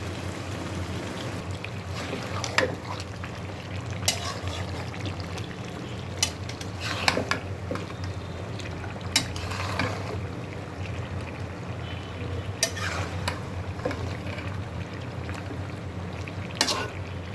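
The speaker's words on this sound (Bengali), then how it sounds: "মাংসটা কষানো হচ্ছে।" Mutton sautés in oil in a pan with a continuous low sizzle and steady hiss, broken by occasional sharp scrapes and taps of a spoon stirring, close up and unbroken by speech.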